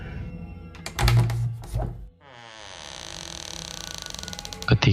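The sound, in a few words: bedroom door creaking open slowly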